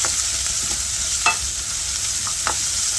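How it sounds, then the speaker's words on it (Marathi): Onion, garlic and ginger sizzle in hot oil with mustard seeds, cumin and asafoetida, a soft continuous hiss broken by a few sharp stirring clicks, no talking. "हे तडतडत असतानाच आपण थोडंसं हिंग घालून घेऊया, कांदा घालून घेऊया आणि लसूण"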